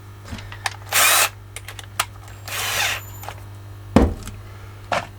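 A power drill drives a couple of screws into a homemade wooden toy being repaired, in two short whirring bursts about a second apart, with scattered clicks and knocks of handling between and after them.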